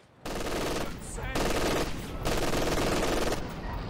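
Machine-gun fire in a Company of Heroes 2 match, with dense, sustained bursts of automatic fire broken by short pauses, loud and close amid battle noise.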